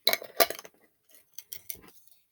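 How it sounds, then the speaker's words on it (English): A small lid pressed onto a little glass spell jar, giving a couple of crisp clinks and a light glassy tap, close up and quiet with silence between. "And then I pop the little lid on it."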